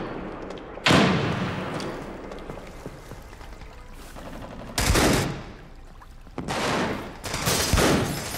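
A grenade thrown in a video game gunfight goes off as sharp, loud bursts, with an impact near the start and two heavy blasts later, over a steady rumbling background.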